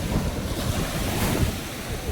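Strong sea waves rolling and crashing at a beach, a loud, continuous roar of surf close by, mixed with wind buffeting the microphone.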